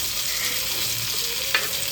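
Okra fries in a little oil in a home kitchen pan, giving a continuous bright sizzle and crackle. A brief louder spatter stands out once partway through, with no voices.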